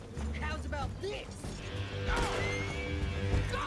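Horses whinny in Red Dead Redemption 2 amid a chaotic game scene, a couple of rising-falling neighs standing out over rumbling background noise and impacts, with someone talking over them.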